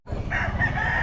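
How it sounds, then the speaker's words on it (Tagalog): A rooster crows once, loud and close, in a brief strained call. "napakapangit na manok"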